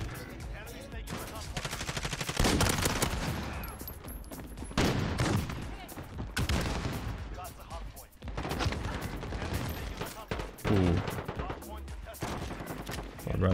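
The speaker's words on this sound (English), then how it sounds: "Where are these shots coming from?" Gunfire in the video game Modern Warfare, with repeated bursts of rapid automatic shots and scattered single cracks, loud and close, broken by short pauses.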